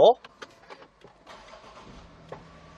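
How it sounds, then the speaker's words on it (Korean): A used Land Rover Discovery 5 SUV turns over after a brief loud burst, then settles into a soft, steady idle hum, with faint clicks and a low drone near the end. "이제 시동 한번 걸어볼 건데요"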